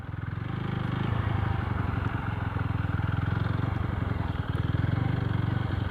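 A motorcycle engine drones steadily and close at a constant rhythm while riding, with a rough, throbbing low pulse throughout.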